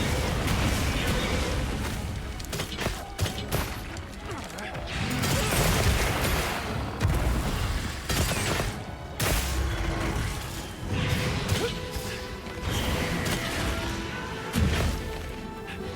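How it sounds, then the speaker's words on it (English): Explosions and heavy impacts from a monster fight in the video game Monster Hunter Wilds, a dense, loud stretch of crashing blasts and thuds layered over game music and effects, continuous throughout. "The explosion didn't hit me."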